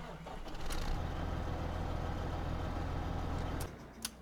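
A tractor engine in Farming Simulator 2015 drones steadily with a low rumble, then drops off near the end, where a short click follows.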